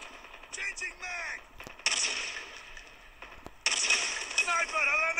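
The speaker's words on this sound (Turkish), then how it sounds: "Abi atış sesleri geliyor." Gunfire from Call of Duty Mobile battle royale gameplay: several sharp shot bursts and sustained firing in separate clusters, loud and close, with game sound effects between volleys.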